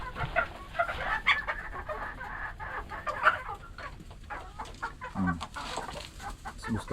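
Backyard pet chickens clucking and murmuring while they feed, with overlapping soft clucks and brief louder calls scattered throughout at close range.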